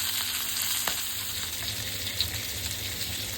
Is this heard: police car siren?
no